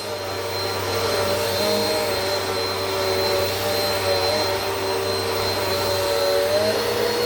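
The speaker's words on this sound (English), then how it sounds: "That's unbelievable for a little vacuum like this." A small Bissell vacuum cleaner runs continuously at close range, a loud steady whine and motor drone with no pauses and no talking over it.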